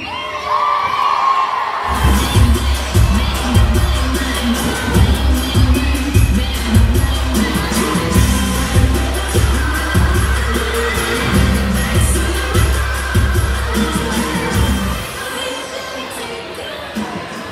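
A large crowd at a Mechatrons Robots of Destruction robot combat event in Dublin cheers loudly for the Irish robot Shillelagh, a dense roar of shouts and whoops rising suddenly after a quiet start, sustained for about thirteen seconds before dropping away.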